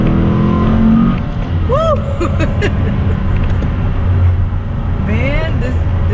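A 2019 Dodge Challenger Scat Pack with a shaker hood accelerates hard, its engine roaring loud and close from inside the cabin, with rising whine as it pulls, while occupants cheer and talk.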